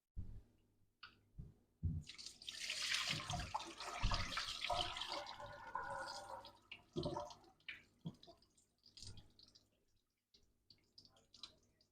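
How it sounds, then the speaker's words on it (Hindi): Poha (flattened rice) is rinsed under running water in a kitchen, with intermittent splashing and swishing bursts, some drips and clicks between them, close by with quiet gaps. "हम पोहा धो लेंगे अच्छी तरह से"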